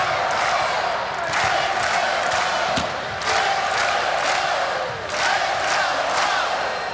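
Volleyball crowd roaring steadily in an arena during a Hawaii versus Stanford men's match, a loud dense wash of cheering with brief surges and sharp claps throughout.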